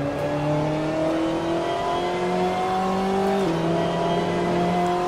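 A BMW M8 GTE race car in Assetto Corsa holds a steady, loud engine drone, its pitch climbing gradually through the revs, then dipping sharply at a gear change and climbing again, with no voices.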